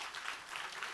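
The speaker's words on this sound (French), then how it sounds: "on peut les applaudir, je crois, quand même" Audience applause at a French startup innovation talk, a steady dense wash of clapping from a crowd that holds at an even, moderate level for the whole second.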